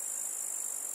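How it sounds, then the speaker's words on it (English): A grasshopper chirps in a dense, continuous high-pitched trill that holds at an even level throughout, alone with no voices. "Grasshopper."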